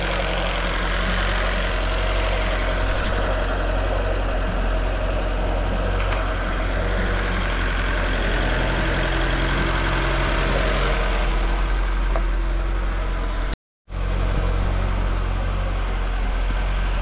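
A carburetted Fiat Abarth engine idles steadily after being restarted following long storage, a loud, continuous rumble with a slightly uneven knock, cut by a brief dropout near the end before resuming.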